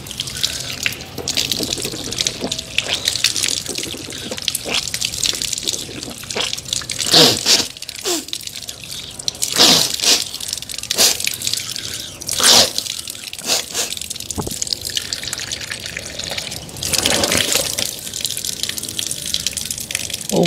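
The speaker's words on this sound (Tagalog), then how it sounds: "hugasan natin ang 2 kamay hanggang sa pulso ng 3 beses" Water runs from a tap as both hands are washed up to the wrists three times for ablution, a steady close splash broken by sloshing and dripping.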